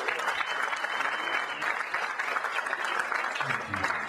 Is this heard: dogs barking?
no